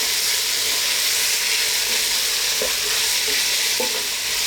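Vegetables for chicken tomato pasta sauté in a pan, giving a loud, continuous close sizzle with a couple of brief stirring clinks.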